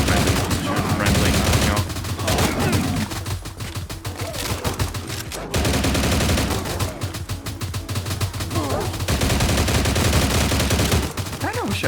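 Heavy rapid gunfire in a S.T.A.L.K.E.R.-style Minecraft mod, long loud automatic bursts split by a brief pause midway, with a voice talking faintly underneath.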